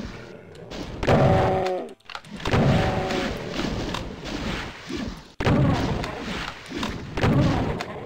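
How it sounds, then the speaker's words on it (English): Gunfire aimed at the player in a Doom WAD, heavy thudding shots and impacts in rapid bursts, loud and close amid game action. "Someone's shooting me."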